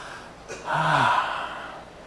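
A church congregation drawing a deep collective breath together, a soft gasp-like inhale swelling for about a second and then fading, with no talking.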